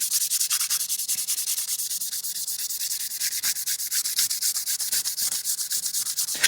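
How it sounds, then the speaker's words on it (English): A rusty knife blade is sanded by hand, giving rapid, even, rhythmic rasping strokes that stay close and loud throughout, with no voices. "So now I've got most of that rust off."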